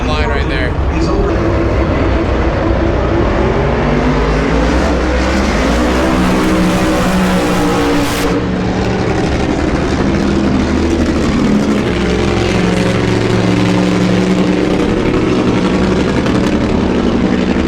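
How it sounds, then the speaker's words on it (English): Loud, continuous roar of powerful drag race cars accelerating in a four-way NHRA drag race, dense and sustained throughout, with a rising engine sweep near the middle and voices mixed in. "this is the first time I am witnessing a four-way drag race ever"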